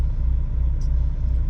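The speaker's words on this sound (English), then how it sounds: "I'm gonna drop this trailer, so I'm gonna back this trailer in" Semi truck idling and rumbling steadily up close while backing a trailer in for a drop, a deep continuous engine drone with a brief hiss partway through.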